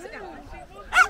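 A dog at an outdoor summer gathering gives a short sharp bark at the end of the moment, close by, after brief background talk.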